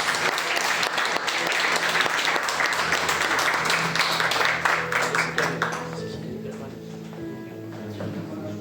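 Congregation in a church breaking into loud, sustained applause that carries for several seconds, then thins to scattered claps and murmuring voices as it fades near the end.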